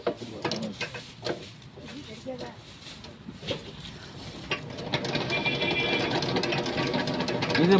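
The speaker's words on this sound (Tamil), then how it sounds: "இப்போ நம்ம சுற்றும் போது அந்த தேனெல்லாம் வெளியே வந்துடும்" A centrifugal honey extractor spins honeycomb frames with a rising whir and mechanical rattle that builds steadily louder, after a stretch of talk and handling clatter.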